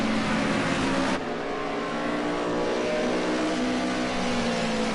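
Group A touring race cars, a BMW leading an Audi, roar past close and loud at Sonoma, engines droning steadily with a shift in pitch partway through.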